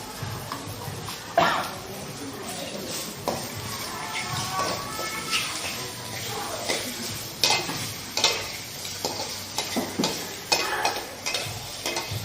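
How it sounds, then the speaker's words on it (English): Seasoning sautéing in a pan while fried rice is prepared. A steady close sizzle runs throughout, with repeated sharp clicks and scrapes from a utensil stirring against the pan. "You saute the seasoning until it smells nice."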